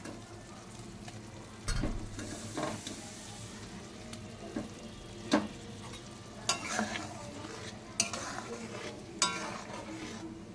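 Small puthi fish are cooked in a pan of boiling gravy, with a low bubbling sizzle, occasional scrapes and clinks of a utensil against the pan, and a few sharper knocks, heard close and fairly quiet.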